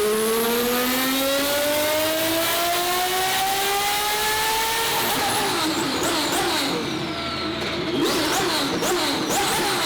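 A twin-turbo Ferrari F12 tuned to about 1500 hp revs hard, its engine howl climbing steadily in pitch through the gears, loud and continuous, with the turbo and exhaust roar swelling toward the end.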